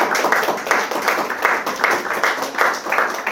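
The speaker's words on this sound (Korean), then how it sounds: "우리 하나님께 감사의 박수를 한번 드리도록 하겠습니다." A congregation claps in thanks during a year-end thanksgiving church service, with a brief burst of rhythmic hand claps that comes in regular pulses and fills the room at moderate loudness.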